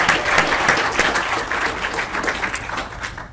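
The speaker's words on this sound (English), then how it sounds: "one more round of applause for our presenters" Sustained audience applause for student research presenters at a medical school research forum, dense steady clapping from a room full of people filling the whole stretch.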